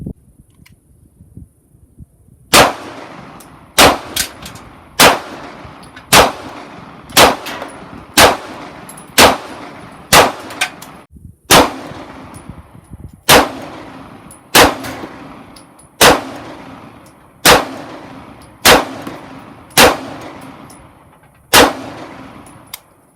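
Repeated shots from an HK P7 pistol, about sixteen sharp reports fired at a steady, fairly quick pace, each loud and close with a short ringing decay, and no talking.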